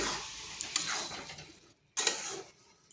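Masoor lentil dal with garam masala being stirred in a pan, two bursts of scraping and soft sizzling separated by a short pause, close and moderately loud.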